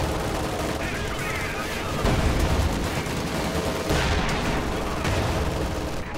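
AT gun and rifle gunfire in a World War II strategy video game, dense overlapping shots and booms rolling continuously over a constant battle din, with louder bursts around the middle.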